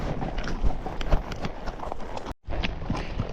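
Horse hooves clip-clop at a steady walking rhythm on an Arizona trail, close and fairly loud, with light wind buffeting the microphone and a brief cut near the end.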